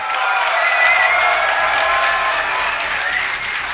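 A large crowd at a DreamHack StarCraft tournament cheers and applauds continuously, a loud dense roar of clapping and shouting that holds steady throughout.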